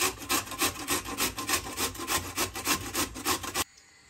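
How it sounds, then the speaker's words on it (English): Beetroot and carrots rubbed together on a kitchen grater for borscht, a quick steady run of raspy scraping strokes, close and fairly loud, stopping abruptly near the end. "So meanwhile, we are grating our beetroot, our carrots together."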